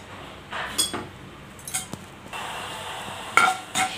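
Mustard seeds, cumin and urad dal frying in hot oil in a pan for a curry, with a steady soft sizzle, a few spoon stirs and clinks against the pan, close and fairly quiet, no talking.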